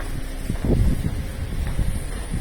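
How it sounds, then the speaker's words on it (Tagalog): Steady low rumbling wind buffeting outdoors, with gusty swells and a breathy rush, no voices. "Mahangin sa labas."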